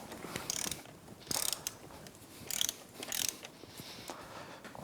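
A torque wrench ratchets on the wheel bearing nut of a Yamaha YXZ1000R side-by-side, giving quick metallic clicking with several louder bursts of grinding ratchet noise, heard up close over steady background hiss.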